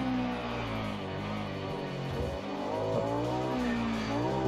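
A sport-touring motorbike in Ride 2 on the Estoril circuit, engine note dropping and flaring as it downshifts under braking, with a smooth loud whine stepping through gears and rising again, no voices.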